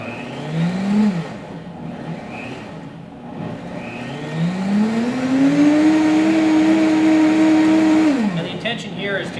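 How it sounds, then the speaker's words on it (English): A blender grinding chili pepper and tomatoes into an arrabbiata sauce, motor whirring up and down in short bursts before ramping to a loud, sustained high whine that cuts off near the end. "the intention here is to grind up that chili pepper as fine as possible"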